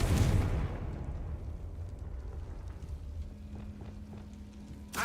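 A blasting-spell explosion in a Harry Potter video game: a booming burst at the start, then a low rumbling decay that fades over several seconds.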